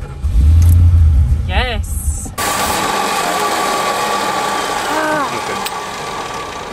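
An abandoned Plymouth Fury, its carburetor fed fresh gas, cranks and catches, then runs rough and revs loud and close while a person speaks briefly over the engine noise.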